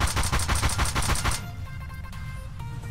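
Rapid automatic gunfire from a gun fed by 49-round magazines: a fast, loud burst of about a dozen evenly spaced shots, followed by ringing echoes and low background rumble.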